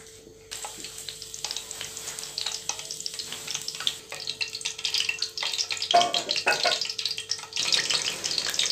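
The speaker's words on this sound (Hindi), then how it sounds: "अब हम घी को गर्म होने देंगे।" Ghee heating in a pan for a tindi dal chana dish, crackling and sizzling steadily with bursts of spattering and louder frying toward the end, no voices.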